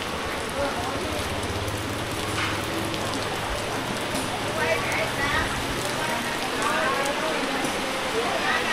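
Heavy rain falls on a market, making a dense steady hiss of drops pattering on surfaces throughout, with a faint voice now and then under the downpour.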